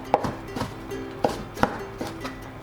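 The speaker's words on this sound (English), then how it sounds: "let's cut chikuwa fish cake" A knife cuts chikuwa fish cake into diagonal slices on a cutting board, giving several crisp taps at an uneven pace, close and clear with soft background noise.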